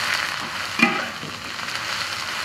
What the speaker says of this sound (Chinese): 油温烧热，下入丝瓜炒